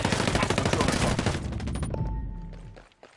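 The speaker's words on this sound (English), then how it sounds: "I hear enemy fire." Rapid, dense enemy gunfire crackles in the tactical shooter Ghost Recon Breakpoint, loud volleys of automatic shots for about a second and a half, then thinning into scattered distant pops over a lingering low rumble.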